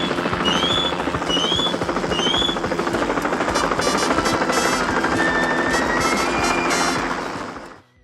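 Loud, continuous helicopter rotor chop and engine roar at height, with high whistling sweeps and bright, rattling, staccato bursts layered on top, steady throughout and fading sharply at the end.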